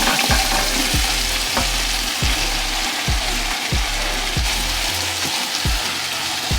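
Chicken pieces sizzle in a pot for tortilla soup, with a hiss of frying throughout and regular scraping strokes of stirring that repeat about once a second, close and loud.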